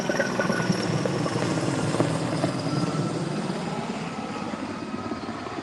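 A helicopter flies near a wildfire in California, its broad rotor and engine roar filling the air steadily and fairly loud, without any talk.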